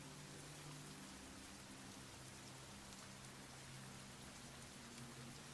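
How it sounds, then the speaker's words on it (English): Continuous rain falling outside as ambient background, an even, unbroken hiss with a low steady hum beneath it and no pauses. "And you hear the rain outside."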